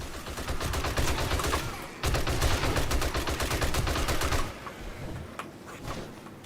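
Dense automatic gunfire in the zombie survival game 7 Days to Die, overlapping bursts of rapid shots that pause briefly, resume loudly, then thin out to scattered single cracks at the end.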